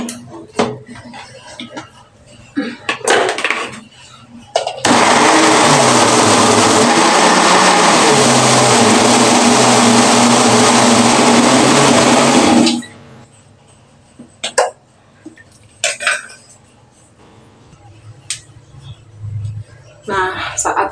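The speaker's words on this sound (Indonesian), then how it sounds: "Ini kita blender pertama-tama bawang merah." A kitchen blender purées shallots with water for a chili spice paste, a loud continuous whirring roar lasting about eight seconds, framed by a speaking voice and clattering dishes and utensils before and after.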